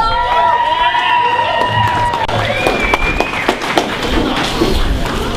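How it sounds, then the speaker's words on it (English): A crowd at an outdoor rally in Sitka claps and cheers loudly and continuously, dense applause filling the space with a few whoops rising above it. "Can you give David a big round of applause?"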